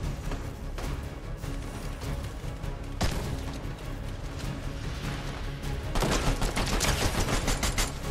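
Rapid bursts of video game gunfire rattle almost continuously, loud and close, swelling into denser volleys in the last couple of seconds.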